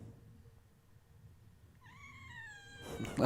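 A cat lets out a rising, squeaky meow near the end, brief and fairly close, following a quiet stretch of low room noise and ending in a burst of louder rustle.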